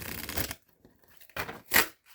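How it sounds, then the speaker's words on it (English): Tarot oracle cards riffle-shuffled in a botched shuffle: two bursts of papery flapping and snapping, close and fairly loud, separated by a brief pause, with a sharp crisp slap at the end. "Oops, that was a massive fail shuffle."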